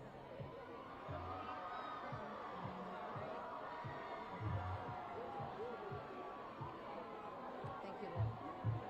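Protest crowd gathered outside the Supreme Court, a continuous distant murmur of voices with scattered shouts and cheers rising at moments, with people talking nearby over it.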